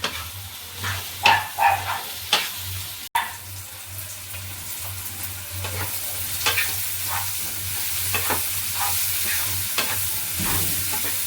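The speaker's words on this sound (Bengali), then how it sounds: "সব ভেজে নিচ্ছি।" Cashews and ground spices such as turmeric and chilli frying in a pan, a continuous close sizzle broken by several scraping stirs, with a low steady hum underneath.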